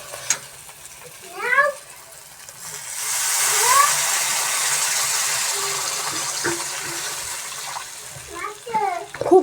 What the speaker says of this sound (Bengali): আমার জল দিয়ে দিয়েছি